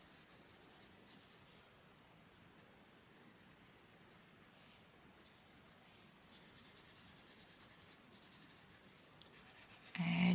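Pastel pencil shading on paper to darken a background area of a Santa drawing, a soft continuous scratchy rubbing with faint rhythmic strokes, close and quiet, with no voices.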